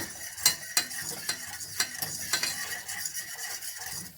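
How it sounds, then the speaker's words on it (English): A roux is stirred in a pan, with about eight rhythmic scraping strokes close by, each a sharp rasp against the pan over a faint background, and no voices. "here we have our roux. We are going to stir in."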